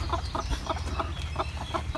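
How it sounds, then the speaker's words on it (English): A rooster and newly bought hens, an Americana, a barred rock and a buff, cluck nearby in a rapid, regular series of short calls over a steady low background rumble. "Just got back with the new hens. They're gonna take a little getting used to. The rooster's already trying them out."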